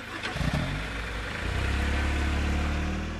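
Car engine from a children's educational vehicle cartoon, a mid-pitched motor that revs up sharply at first and then settles into a loud, steady low drone throughout, with no talking.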